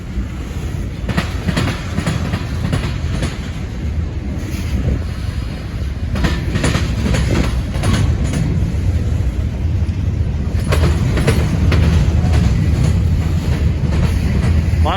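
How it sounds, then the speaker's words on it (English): A Norfolk Southern switcher locomotive hauls a freight train with corn syrup tank cars past on the tracks: a loud, close, continuous rumble with rhythmic clickety-clack of wheels over rail joints and occasional metallic squeals. "switcher bringing down this train here."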